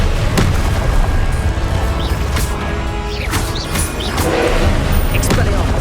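A Confringo blasting spell explodes in Hogwarts Legacy: dense, booming bursts and crashes over a loud, continuous low rumble of combat noise.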